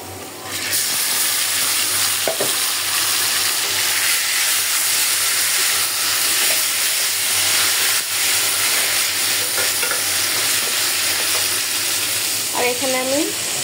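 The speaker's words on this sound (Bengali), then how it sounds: "আমি এখন মাংসটা দিয়ে দিব।" Chicken meat frying with onions in a pot, a loud continuous sizzle and hiss with scraping stirs and occasional clinks, no voices.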